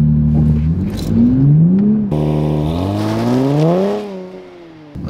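A 2023 Nissan Z Proto Spec engine revs hard during an attempted burnout, its note climbing and falling in repeated pulls, loud and close, ending in a sudden cutoff.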